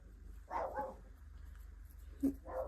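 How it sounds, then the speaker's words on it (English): A dog barks a few times indoors at moderate distance, short muffled woofs spaced apart over a low steady hum. "My dog is barking for what reason?"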